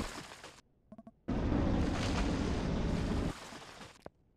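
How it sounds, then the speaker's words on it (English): A mining laser firing on a surface ore patch in Empyrion, a loud sustained blast of roaring noise lasting about two seconds after a few short pops, fading to a lower rumble with a final sharp crack. "Just find a ore patch on the surface and then you just shoot it with a laser."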